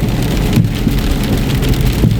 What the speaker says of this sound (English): I watched the rain and everything from my